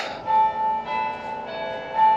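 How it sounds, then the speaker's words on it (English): Church bells ring near Tewkesbury Abbey, a few clear, sustained tolls heard from a distance outdoors, ringing alone without talk. "Oh, hang on, the bells are going off."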